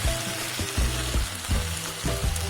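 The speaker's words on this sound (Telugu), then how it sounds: "ఇవన్నీ వేసాక బాగా కలుపుకోండి ఇదంతా హై ఫ్లేమ్లోనే చేసుకోండి" Vegetables for veg Schezwan fried rice sizzle and crackle in a hot pan over high flame, with rhythmic stirring and tossing strokes roughly every half second, loud and close with no talk.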